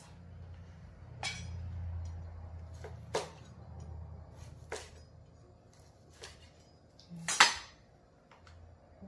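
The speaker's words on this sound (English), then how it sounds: "Let's start off with the Chinese sausage. So cut into it." A knife cuts into Chinese sausage for a Cambodian sweet pork sausage dish, giving several sharp clinks and taps of blade on plate or board, spread out and fairly quiet against a low background hum.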